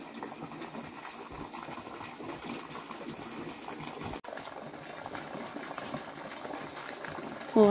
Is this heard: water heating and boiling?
yes